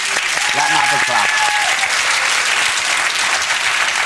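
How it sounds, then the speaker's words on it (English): Studio audience applause on a television chat show, a loud continuous wash of clapping with a brief voice speaking over the start before the clapping carries on alone. "Let me have a clap"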